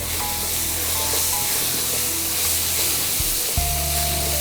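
Onion, ginger and garlic sauté in hot oil for a paneer pepper roast, giving a steady close sizzle and hiss throughout, with a brief stirring clatter near the end and no talk.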